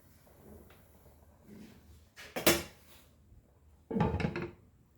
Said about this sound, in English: Now we'll cover this and cook till our rice is cooked on low flame.